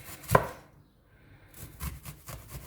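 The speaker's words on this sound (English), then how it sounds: "For the onion, we're gonna cut them like this, big chunks like this." A knife chops an onion into big chunks: one sharp, loud cut, then a run of softer, irregular chops against a board, close up.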